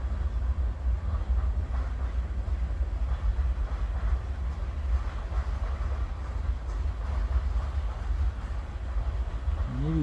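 CN freight train with sand load cars rolling past at West Ladysmith, a loud continuous low rumble of wheels and cars that stays steady for the whole stretch, without any talk.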